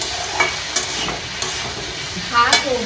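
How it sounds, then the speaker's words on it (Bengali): Aloo posto, potatoes cooked with poppy seeds, sizzles steadily in a pan while a spatula stirs and scrapes at intervals, loud and close with no talking. "আলু পোস্তটা রান্না করছি"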